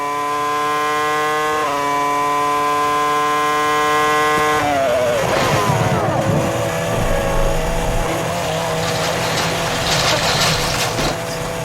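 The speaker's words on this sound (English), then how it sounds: "Kimi can see the problem with his tyre, but it's the final lap" A Formula 1 car with a damaged tyre and severe vibration races on its final lap in the 2005 season, a loud high engine whine shifting up through gears, then a rougher roaring pass with trackside noise.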